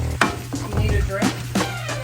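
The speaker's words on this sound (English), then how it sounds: "We're going to start by browning the ground beef" Ground beef browns in a pan, with a low steady sizzle broken by a few scraping stirs of a utensil, close and fairly loud, no talking.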